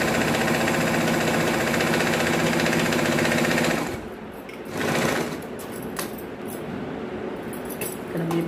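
A sewing machine runs a steady, loud stitch along a blouse hem for about four seconds, then stops, leaving only quieter fabric handling and small clicks.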